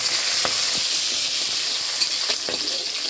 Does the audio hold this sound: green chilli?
yes